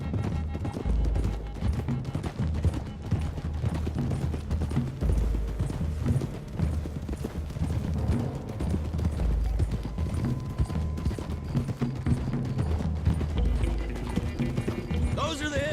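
Several horses' hooves clip-clop in Red Dead Redemption 2, a continuous galloping rhythm close by, with voices talking over it and low rumbling underneath.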